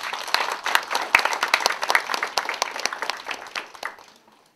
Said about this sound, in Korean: 우리 감사의 박수와 격려의 박수 부탁드리겠습니다